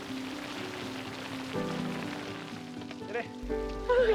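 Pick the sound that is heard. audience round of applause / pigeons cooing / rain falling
rain falling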